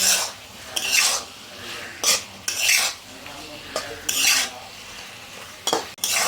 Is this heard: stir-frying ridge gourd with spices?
yes